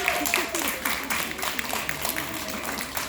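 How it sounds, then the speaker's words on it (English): Audience at a pre-K graduation ceremony claps for the parents, a choppy, uneven patter of hands with distinct individual claps standing out and some voices mixed in. "So can you guys clap for your parents? A big clap."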